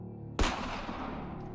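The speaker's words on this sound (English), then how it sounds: "The sound of the gunshot inside the cabin was deafening." A single gunshot fired into the wooden wall inside an isolated Appalachian cabin: one sharp, loud crack that booms and rings out in a long decaying reverberation, with no talk.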